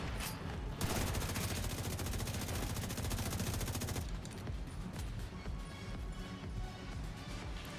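Rapid automatic gunfire in The Division 2 video game, a loud sustained burst of machine-gun shots for several seconds, then sporadic shots and battle noise continuing underneath.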